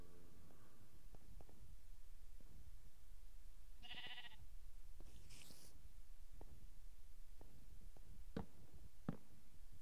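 Sheep in a video game bleat faintly in two or three short calls, scattered among quiet clicks and taps, with no one talking.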